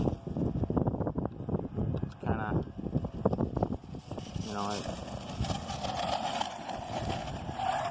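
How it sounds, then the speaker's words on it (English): Wind buffets the microphone with rumbling gusts under a person talking, growing into a continuous roar once the talking stops. "Geez, it's windy. It's really windy."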